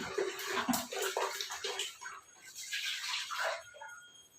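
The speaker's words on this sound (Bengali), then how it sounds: "দেখো জলটা নষ্ট হলো না কাজে লেগে গেল ডাস্টবিনটা ধোয়া হয়ে গেল" Water poured out to rinse a dustbin splashes and runs in a continuous wash close by, with brief splashes and shifting flow throughout.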